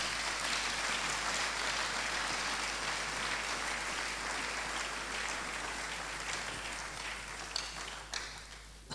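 A church congregation applauds, a dense, steady wash of clapping from many hands that fills the room for several seconds and thins out slightly toward the end.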